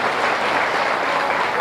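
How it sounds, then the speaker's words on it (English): Steady, dense applause from the audience at a junior swine show fills the whole moment, loud and continuous with no voices standing out. "let's give this class a nice round of applause here"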